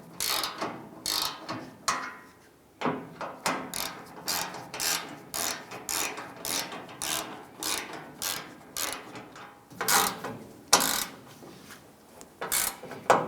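Bolts on a 2000-2006 Toyota Tundra rear bumper are tightened with a ratchet, giving repeated clicking bursts of close metallic ratcheting with short pauses between runs.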